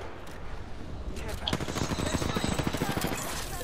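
Rapid automatic gunfire in an Apex Legends match, a dense burst of sharp repeated shots starting after a quieter moment and continuing loud and close to the end.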